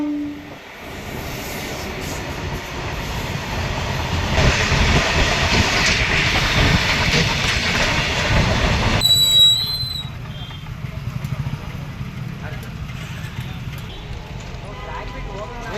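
A train rumbles loudly over the tracks at a railway gate crossing near the RMC yard in Gauribidanur, with a sharp horn-like squeal partway through. People talk nearby while the rolling clatter continues.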